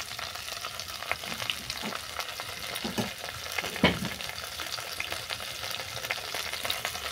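Water spinach stems with chopped tomato, salt and turmeric sizzling and frying in a pan, a continuous crackling hiss with occasional louder stirring scrapes.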